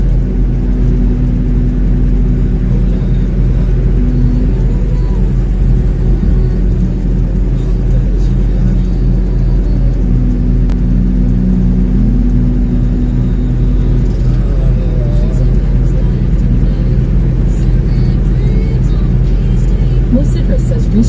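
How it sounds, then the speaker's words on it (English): A truck cruising fast on an American road, its engine and tyres making a loud, constant low rumble with steady drone tones, heard from inside the cab throughout. "The truck is going really fast."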